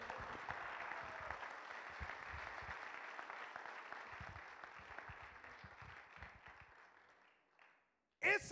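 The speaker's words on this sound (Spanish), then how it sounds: "dale ese aplauso a la bendita palabra del Señor" A church congregation applauds after a sermon, a sustained wash of clapping from many hands that slowly fades out over several seconds before a brief loud burst at the very end.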